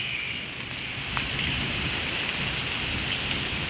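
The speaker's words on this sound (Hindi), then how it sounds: "मूसलाधार बारिश" Torrential rain pours down in a steady, heavy roar over Lahore, with a faint low rumble beneath and floodwater entering houses; no one speaks.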